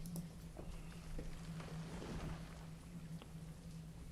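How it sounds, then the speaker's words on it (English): Steady rain falls in the medieval town-building game Banished, a soft continuous hiss with faint scattered patters and a low hum underneath, fairly quiet and with no talk. "already it's starting to rain"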